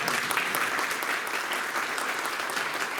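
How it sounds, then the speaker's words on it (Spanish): A conference audience applauds steadily for the speaker, a dense, even clapping that fills the whole stretch with no talk over it. "Un aplauso."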